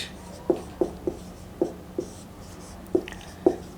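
Chalk or marker taps and strokes on a classroom board in a series of short, distinct knocks, about seven over a few seconds, close and clear with no talk over them.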